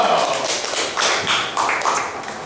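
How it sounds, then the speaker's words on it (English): Applause from a small audience at a poetry open mic night, a steady patter of hand claps of moderate loudness throughout. "Another applause"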